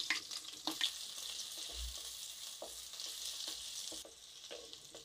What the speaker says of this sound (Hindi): प्याज को हम हल्का भूनेंगे,